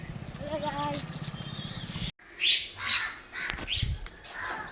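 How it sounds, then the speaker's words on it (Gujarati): Crows and mynas pecking at sev give a few short, bright calls and chirps after a stretch of a person talking close by, with a steady low background underneath. "કાકડા કાબરો એમના સેવો ખાય છે"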